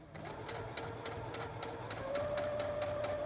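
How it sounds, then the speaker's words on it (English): A domestic sewing machine runs steadily up close, stitching muslin rag doll pieces with a continuous whirring drone and fast rhythmic needle ticks, rising slightly in pitch midway. "I'm sewing them together."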